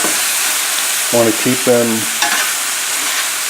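Sausage and peppers frying in a pan give a steady, loud sizzle with occasional stirring scrapes, while someone speaks briefly over the cooking.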